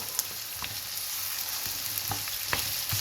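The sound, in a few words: onions softening and frying in a pan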